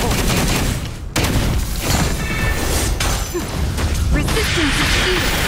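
Dense, continuous gunfire bursts and mechanical impacts from the PGR (Punishing: Gray Raven) video game during a battle, loud and layered with whooshes, with a voiced character line over the action.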